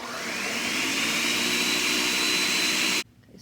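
A kitchen stand mixer whirs on high speed, whipping raw milk cream into butter; a steady, loud, even motor drone runs for about three seconds, then cuts off abruptly, leaving a faint quiet tail.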